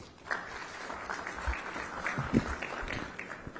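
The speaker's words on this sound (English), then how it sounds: "Round of applause, please." Audience applause at an international aerospace manufacturing conference in Visakhapatnam, a steady wash of clapping from a hall full of people, fairly distant and even, with no talk over it.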